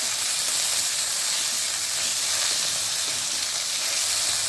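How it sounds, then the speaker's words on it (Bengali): Jute leaves fry in a pan with garlic, black cumin and dried chili, giving a loud, steady, close-up sizzle and hiss that runs unbroken throughout with no voices. "এই দেখুন, পাট শাকটা রসুন, কালো জিরে আর শুকনো লঙ্কা দিয়ে কীরকম ভাজা ভাজা হচ্ছে।"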